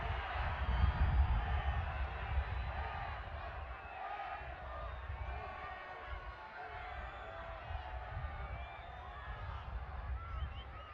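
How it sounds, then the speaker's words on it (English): A large crowd at a Concacaf under-17 football match between Panama and Guatemala roars and jeers in disapproval after a foul, a dense, sustained murmur of displeasure rising and falling at a distance. "Crowd did not take too kindly."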